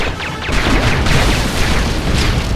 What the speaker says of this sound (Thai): มันจะระเบิดแล้ว